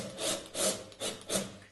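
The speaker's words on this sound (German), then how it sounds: "Nehmen wieder die Schrauben und fangen mit der oberen Seite mit den 3 Schrauben an," Screws are driven into the top of a wooden Sela snare cajon kit panel, producing four rhythmic, rasping, rubbing strokes close up with no talking.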